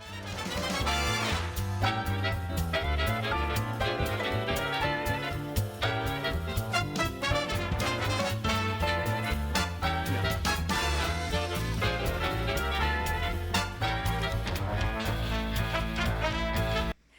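A full big band plays with punchy brass stabs and saxophones over a steady rhythm section, loud and continuous throughout.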